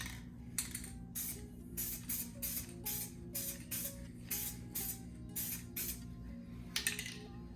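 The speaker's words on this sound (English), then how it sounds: "So we'll do a little test spray." Short bursts of spray paint hiss in a quick, fairly regular series, about a dozen sprays, moderately close over a low background hum.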